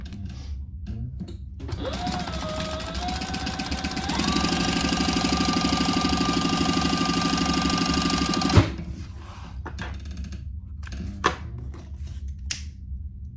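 A sewing machine bastes a clear vinyl pencil pouch, starting with a rising whir, then a fast, steady, loud stitching run for several seconds before stopping, followed by a few handling clicks.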